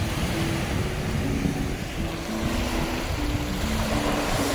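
Sea surf along a shore at night, heard as a steady broadband wash with constant roar and no distinct breaks, alongside a low continuous hum.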